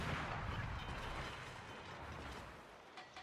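Yamato battleship shells firing in World of Warships, a low rumbling boom with a sustained roar that fades, then a few faint sharp pops at the end.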